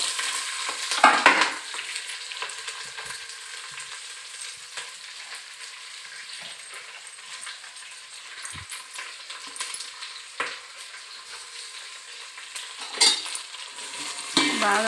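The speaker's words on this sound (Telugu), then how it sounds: "పచ్చివాసన పోయే వరకు కలుపుకుందాం" Vegetables for vegetable biryani, with curry leaves and green chillies, are stirred in a hot pan: a continuous sizzle broken by repeated scrapes and clinks of a spoon against the metal.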